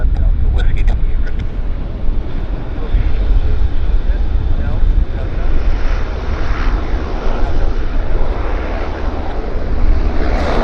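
A small aircraft landing at Vancouver International Airport (YVR) produces a steady, loud broadband roar that holds for the whole stretch, with wind buffeting the microphone outdoors.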